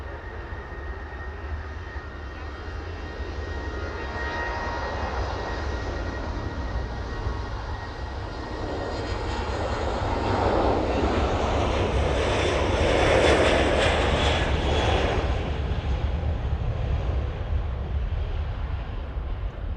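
A Jet2 airliner rolls down runway 09 on an evening departure, its steady engine roar building in the middle and then holding strong and loud, with no voices over it.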